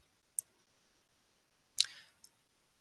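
A few sharp, quiet clicks from a computer mouse, one isolated tap followed later by a slightly longer click and a final faint tick, in an otherwise silent room.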